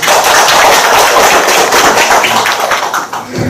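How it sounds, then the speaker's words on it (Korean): A Korean lecture audience applauds loudly to welcome a lecturer on Chungnam regional history. A dense, continuous burst of clapping fills the room, close and strong, easing slightly near the end. "박수로 환영하시죠"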